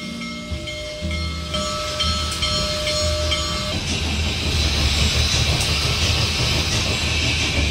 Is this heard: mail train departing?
yes